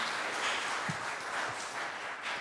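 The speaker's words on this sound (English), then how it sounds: "We'll give you a round of applause quickly" Audience applause in a conference room at a fintech event in Newcastle: steady, moderately loud clapping from a modest crowd running through the whole stretch, with no talk over it.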